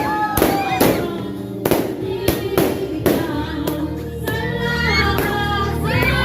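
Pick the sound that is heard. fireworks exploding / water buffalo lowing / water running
fireworks exploding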